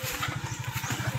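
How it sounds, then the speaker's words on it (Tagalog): Motorcycle engine running on a rural Philippine farm road, a quick pulsing putter at an even rhythm, close and fairly loud over a brief moment. "Sasakyan namin motor."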